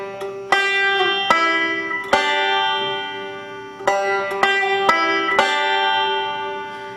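Banjo fill-in lick picked with thumb and fingers, a quick run of bright plucked notes in short bursts with ringing sustain between attacks, played solo with no talking.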